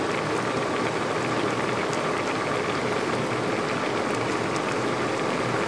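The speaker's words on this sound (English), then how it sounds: "Just wanted you to see it bubbling." Turmeric relish bubbling in a pot while cooking, a dense, steady hiss of popping bubbles, close and loud, unchanging throughout without any talking.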